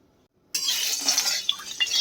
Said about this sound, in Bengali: কড়াইটা গরম করে সর্ষের তেল দিয়ে দিলাম